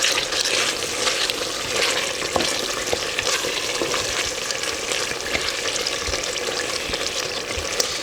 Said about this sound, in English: I'm mixing that into them juices and stock which is there.